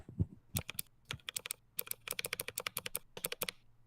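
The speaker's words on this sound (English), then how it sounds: "loud blue switch that your brother has, and you want to hit your brother when he's slamming away at the keys" Fast typing on an ROG Claymore II mechanical keyboard with loud clicky blue switches, a dense rhythmic burst of sharp close keystrokes with short pauses between runs.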